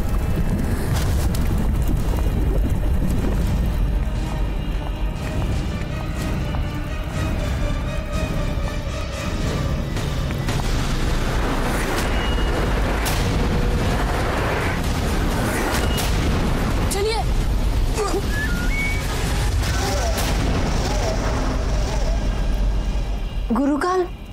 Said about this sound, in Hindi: गुरुकाल, ये धमाका कैसा?